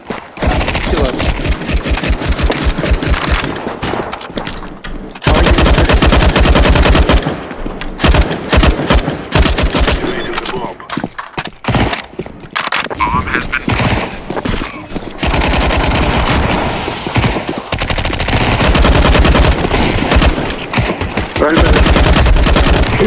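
Loud, rapid automatic gunfire in Counter Strike 2, long rattling bursts broken by brief pauses, with single shots and game effects between them and occasional voices talking underneath.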